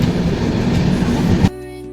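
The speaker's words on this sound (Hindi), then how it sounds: "तो ये एक स्पेशल ट्रेन है और इसको हम लोग यहाँ पे बस्ती में ही ओवरटेक कर रहे हैं" Special express train running on rails while overtaking at Basti station in India, a loud, steady rumble with rhythmic clatter that cuts off abruptly near the end.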